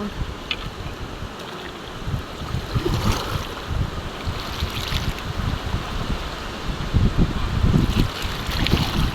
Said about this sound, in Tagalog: Malaki na po yung agos.